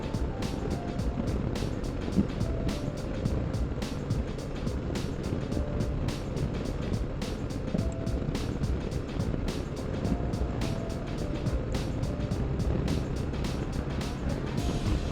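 Continuous rumble of cars and trucks on the Central Luzon Link Expressway with wind noise, a steady drone of vehicles moving at speed, no voices heard.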